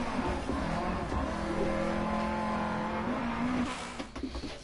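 A rally car engine drones steadily through a DiRT Rally video game stage, its pitch holding and shifting slightly as it drives on, with a brief flurry of gravel or tire noise toward the end.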